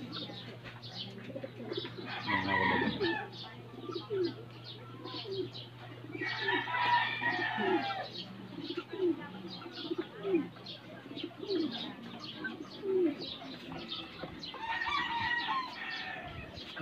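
Outdoors, two-month-old fighting cocks crow in a few distant bursts while pigeons coo in a repeating, soft rhythm, all faint against a quiet background.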